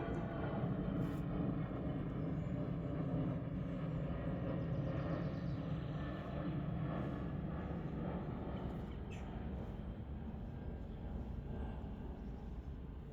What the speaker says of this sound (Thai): เครื่องบินบินผ่านเลยค่ะเนี่ย